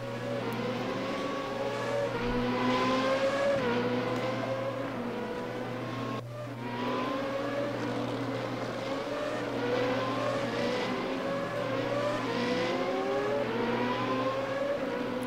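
Formula single-seater race cars in the RaceRoom sim racing game lapping Paul Ricard circuit, a loud continuous high-revving engine whine rising and falling through gear changes, with no talk.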